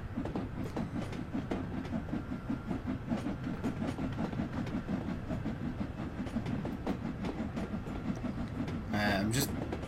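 A train in Train Sim World gathers speed on the rails, with a steady rhythmic clickety-clack of wheels over track joints and a low rumble continuing throughout, plus a brief hiss near the end.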